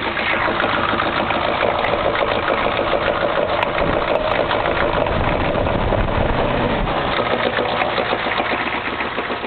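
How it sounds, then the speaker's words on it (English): A Ford 6.9 diesel engine with a clogged return check valve runs loud and close, a rough, knocking clatter that rises slightly as it is revved, continuous for the whole stretch. "I'll rev it up and see if it's smooth like my last video."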